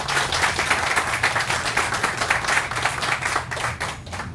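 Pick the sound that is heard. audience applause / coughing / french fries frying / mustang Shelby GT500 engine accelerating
audience applause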